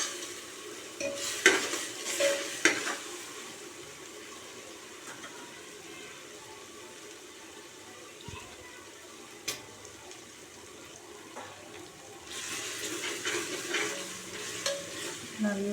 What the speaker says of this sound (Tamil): நல்லா இஞ்சி பூண்டு பேஸ்ட்டு வதங்கி நல்லா ஸ்மெல் வந்துருச்சு